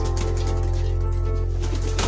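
Pigeons in a breeding loft, a steady mix of low cooing and rustling birds sounding close and continuous, with a brief flurry of wing movement near the end.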